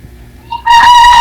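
A rooster gives one loud, close crow that rises sharply after a faint, quiet lead-in, standing alone with no talk over it.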